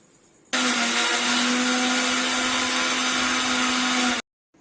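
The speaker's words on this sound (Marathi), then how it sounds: "आता आपण मिक्स करायला घेऊया मिक्सर मध्ये." A kitchen mixer grinder blends sugar and ice with a loud, steady whirring roar that starts abruptly, runs for almost four seconds and then cuts off, with no talking.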